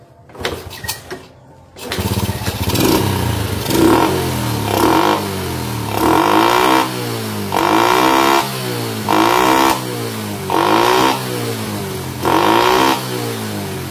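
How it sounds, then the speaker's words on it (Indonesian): An old Honda Supra motorcycle engine turns over with a brief cranking, catches, and then idles with loud, sharp throttle blips that rise and fall in a regular rhythm, close up. "Saya akan tes lagi untuk hidup motornya ya."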